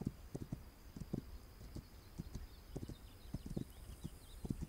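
Horse hooves clip-clopping at a steady walking rhythm in the video game This Land Is My Land, crisp evenly spaced hoofbeats on hard ground with a faint ambient hum behind and no talk.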